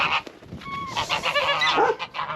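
Geese honk outdoors in deep snow during a northeast blizzard, giving repeated loud, overlapping calls at fairly close range with no talking.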